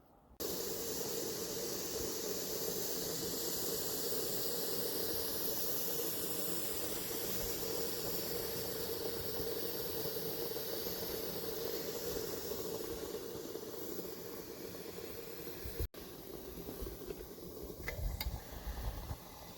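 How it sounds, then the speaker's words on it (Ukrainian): A kettle boiling hard over a Finnish candle log fire while camping, a steady loud rushing hiss with a low rumble underneath, continuing unbroken for about fifteen seconds before a brief click and shift. "Чайник кипить добряче, я думаю, вам чутно."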